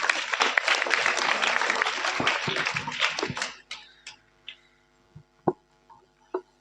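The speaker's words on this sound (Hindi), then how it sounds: "जोरदार तालियां छोटी के लिए।" Enthusiastic applause from a school audience for a young student at a motivational poetry seminar in India, a dense burst of clapping for about three seconds that dies away into scattered taps and a few single claps.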